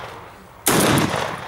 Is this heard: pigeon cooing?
no